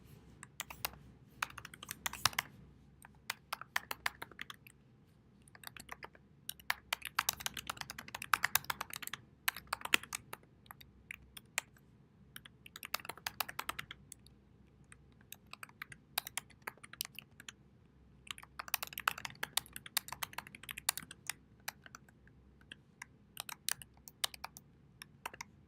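Typing on a computer keyboard in bursts of rapid clicks with short pauses, close and fairly quiet, with no voices.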